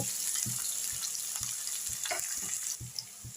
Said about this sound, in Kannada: ನೋಡಿ ಈರುಳ್ಳಿ ಸ್ವಲ್ಪ ಫ್ರೈ ಆಗಿದೆಯಲ್ಲ